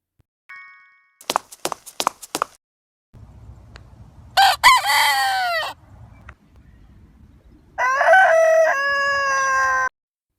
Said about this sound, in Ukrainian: Що за птах цей, дітки? Ну, звісно, півень.